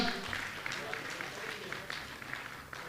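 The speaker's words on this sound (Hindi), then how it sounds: "जोरदार ताली बजाकर हम उनका अभिनंदन करते हैं।" An audience at a Jain religious gathering applauds to welcome an arriving trustee, a faint, steady patter of clapping heard at a distance under room noise and some talk.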